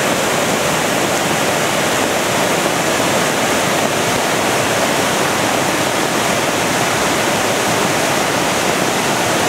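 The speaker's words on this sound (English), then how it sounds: "There's a waterfall there." A waterfall beside a giant rock roars with a loud, unbroken rush of falling water that stays constant and close throughout.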